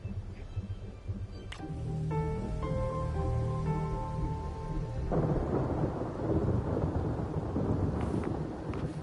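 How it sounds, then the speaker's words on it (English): Thunder rumbles and rain falls in a storm scene from the video game Wuthering Waves, played on PS5, with a steady broadband roar under layered tonal game music. "When there's lightning, it's gonna rain."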